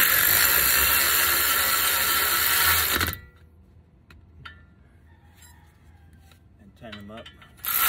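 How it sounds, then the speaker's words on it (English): A ratchet clicks on the brake caliper bolts of a 2001-2006 Honda Civic during a front caliper replacement, with short close mechanical clicking bursts after a loud opening stretch, then quieter intermittent ratcheting. "you could pretty much get a ratchet and"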